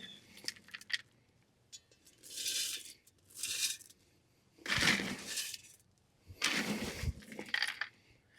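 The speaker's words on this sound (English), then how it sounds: "We'll fill this with some pellets." Cheap wood-stove pellets pour into an EnerG+ outdoor wood pellet patio heater in several separate bursts, close by, each a rattling, clattering rush of small hard pellets with short pauses between.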